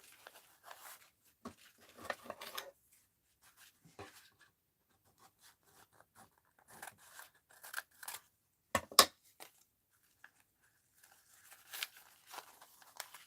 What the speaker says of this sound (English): Now, let's cut it to the size of this.